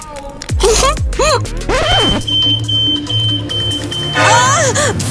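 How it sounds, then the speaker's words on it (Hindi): A household fire alarm goes off, a steady high-pitched electronic tone sounding for a couple of seconds amid loud, animated voices and other sound effects. "फायर अलार्म बज गया।"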